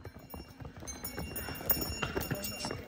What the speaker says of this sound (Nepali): ओए के हो घोडाहरू है?